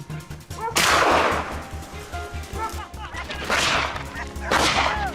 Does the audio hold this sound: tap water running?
no